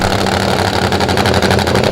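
Supercharged, nitro-burning drag bike engine built on a Kawasaki KZ1000 base, at the 2002 AMA Prostar drag racing championship, running loud and close with a dense, steady, harsh roar that pulses rapidly throughout.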